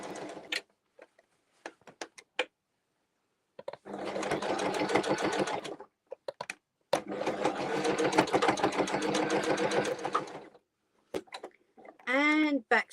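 A sewing machine stitches a small fabric bag in two long, even bursts of rapid mechanical chatter separated by pauses, with scattered clicks and handling noises and a voice speaking between runs.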